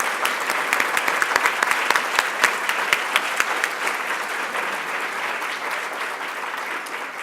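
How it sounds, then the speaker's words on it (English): An audience at an evening awards ceremony applauds the nominees, producing dense, sustained clapping from many hands that holds steady for the whole stretch and tapers only slightly toward the end. "we would like to applaud all of the nominees tonight"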